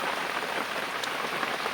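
Rain falls at night in a garden and is easing a little, making a soft, steady patter and hiss close by with no voices.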